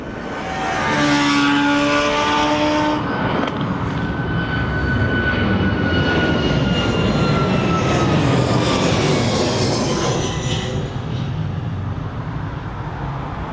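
A Ryanair jet at East Midlands Airport swells into a loud, sustained engine roar with a high whining tone early on, then stays strong and broad before easing slightly toward the end.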